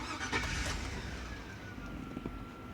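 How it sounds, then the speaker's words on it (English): A Chevy Suburban engine cranks and settles into a steady idle, a low continuous rumble with a faint whine running through it and no talking. "I'm gonna start the engine."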